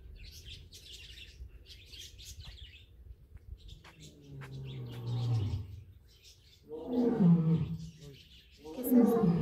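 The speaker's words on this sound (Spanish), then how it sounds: "El león." A lion at a zoo in Quiché, Guatemala gives several deep, moderately distant grunting roars that grow louder toward the end, with bird chirps and faint voices in the background.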